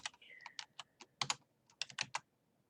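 Close computer keyboard typing in irregular bursts of crisp keystrokes, a quick flurry followed by a short pause and another cluster of taps, heard alone in a quiet room.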